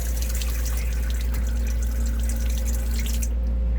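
Water running and trickling out of a plumbing line, a steady close hiss with dripping, continuous and alone, with no one speaking over it.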